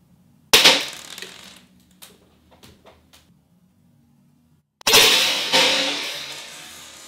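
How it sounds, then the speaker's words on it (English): 1 joule airsoft gun shots striking sunglasses: two sharp, loud cracking impacts a few seconds apart, each followed by a short rattling decay and small clicks of falling fragments, close and without talk. "are these sunglasses enough to protect you from direct hitting of 1 joule powered airsoft gun"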